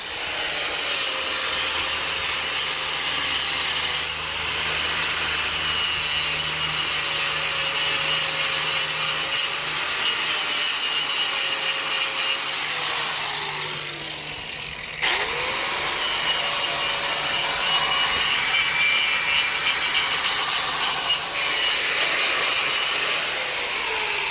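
A power grinder works steadily on metal to open room for a U-bolt during a lift install, its loud continuous whine shifting pitch as the load changes and briefly pausing midway.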